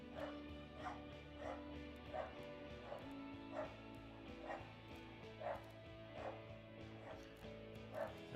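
A female pet dog barks in a steady, repeated rhythm, more than a dozen evenly spaced yips over a constant low mechanical hum. The barks are faint and distant, coming from another room.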